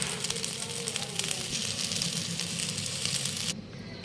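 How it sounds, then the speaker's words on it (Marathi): Previously roasted onion fries in hot oil in a wok, a dense crackling sizzle that holds steady and then softens abruptly near the end. "तर मी जो कांदा आधी भाजलेला होता तर तो पण मी आता तेलात चांगला कढईमध्ये परतून घेणार आहे"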